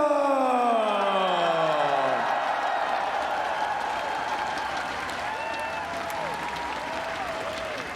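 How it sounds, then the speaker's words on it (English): A large crowd applauds and cheers for the new Super Smash Bros. Wii U world champion at the Evo 2017 grand final, a steady roar of clapping that fades slowly while a voice rings out over it early on. "One more round of applause, y'all."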